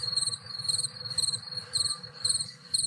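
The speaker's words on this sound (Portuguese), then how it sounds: "Cadê o grilo?" Crickets chirp in steady, pulsing bursts that repeat several times a second, a continuous nearby insect chorus with no voices present.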